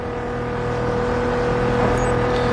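A car engine in the racing game Test Drive Unlimited 2 drones steadily with a constant tonal hum, loud and close, holding an even pitch for the whole stretch.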